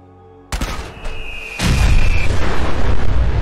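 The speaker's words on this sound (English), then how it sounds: "This one, instead of cannonballs, shoots nuka balls." A nuka ball fired from a cannon weapon mod in Fallout 4 bursts with a sharp pop, then a heavy, roaring explosion that swells and keeps rumbling loudly to the end.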